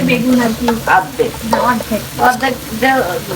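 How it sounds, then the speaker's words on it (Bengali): Radish, potato and eggplant being stir-fried in oil, loud close sizzling with repeated scraping strokes of a spatula against the pan in an irregular rhythm, with no voices. "পরিমাণ অনুযায়ী তেলে ভাজিটাকে বারবার নেড়ে নেড়ে রান্না করতে হবে।"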